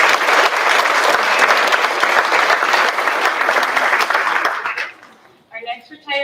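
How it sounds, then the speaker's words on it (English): Loud, full audience applause for a retiree at a school district board meeting, sustained clapping that tapers off before a voice begins speaking. "let's just give a round of applause"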